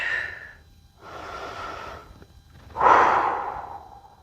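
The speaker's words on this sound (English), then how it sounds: "Few rounds of breath here." Slow, controlled breaths during a full-body stretching and mobility exercise: three drawn-out airy exhalations and inhalations, close to the mic, the last one strongest, with no talking.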